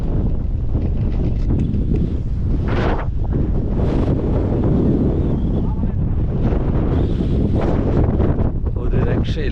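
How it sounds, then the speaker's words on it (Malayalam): Strong wind gusting across the exposed summit of Agasthyarkoodam mountain peak, roaring continuously and buffeting the microphone with loud rumbling bursts throughout. "എൻ്റെ അമ്മ, കാറ്റ് കാറ്റ് കാറ്റ് കാറ്റ് തന്നെയാണ്"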